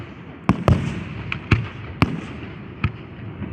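Fourth of July fireworks burst in about six sharp, loud booms at irregular intervals, each a sudden crack over a low rumbling background.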